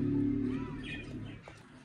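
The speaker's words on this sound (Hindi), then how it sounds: "यहाँ पे ये हमारी कबूतरी बैठी हुई है अंडों पर" A female pigeon sitting on eggs in a mini zoo gives a low, soft cooing call nearby, fading out after a second, with faint background sounds.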